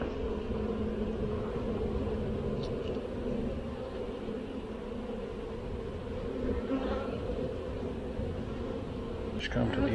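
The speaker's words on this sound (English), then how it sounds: "Keep the other bees from going in there." Honey bees swarm around an open hive during an inspection, a dense, steady buzzing that fills the whole stretch close to the ear, with faint movement noises now and then.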